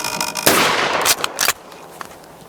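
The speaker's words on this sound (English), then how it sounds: "shooting some clays. Got the old school Remington 870 Wingmaster 12 gauge." A Remington 870 Wingmaster 12 gauge pump shotgun fires once at clay targets outdoors, a single loud close blast followed by a rolling echo that fades over about a second.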